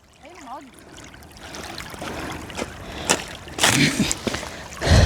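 Water poured and splashing outdoors during a bicycle trip by the Curonian Lagoon, arriving in a few loud, close bursts near the end over faint rustling background noise.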